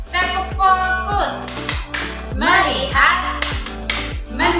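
A class of kindergarten children claps along in a rhythmic clap chant, hands striking in an even beat beneath a teacher's voice and the children's chanting.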